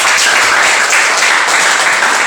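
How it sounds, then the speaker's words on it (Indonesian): A classroom full of people claps together, a dense, lively burst of applause that holds steady from start to finish. "Berikan tepuk tangan."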